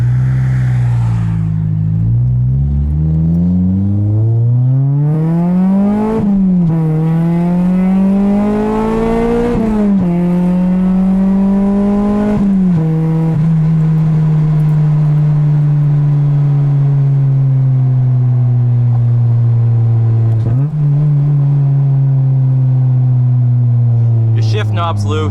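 A 2009 Honda Civic Si with a swapped K24 engine and aftermarket exhaust, lowered on its suspension, drives on a bumpy road; a loud, steady engine drone rises through gear pulls and drops at shifts, with occasional brief talk.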